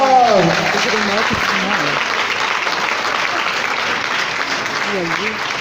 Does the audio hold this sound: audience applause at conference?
yes